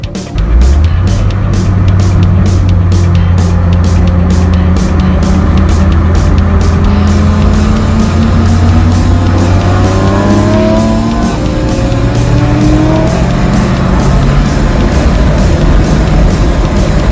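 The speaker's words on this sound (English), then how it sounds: "then you line up to whoever you want to race, and then you go down the straights against them" Engines roar loudly as cars accelerate through the gears down a track straightaway at Powercruise 2017, pitch climbing steadily, with a second engine joining close by and occasional tire squeal.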